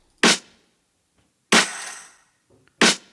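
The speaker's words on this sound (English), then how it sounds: "Next up, we have the snare." Three sharp snare drum hits from a mix arrive alone, loud and close, and are widely spaced. The second hit rings out longer than the other two.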